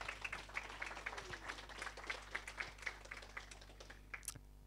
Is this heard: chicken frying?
no